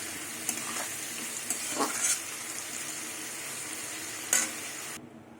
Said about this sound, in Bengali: এবার আলুটা ঢেকে ঢেকে ভেজে নেবো তাহলে আলুটা সেদ্ধ হয়ে যাবে